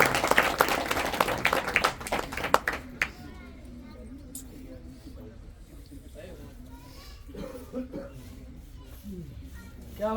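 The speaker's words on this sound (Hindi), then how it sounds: "तालियां बजा दो जोर से।" An audience applauds loudly for the first three seconds; the clapping then drops off and scattered quieter sounds and voices follow.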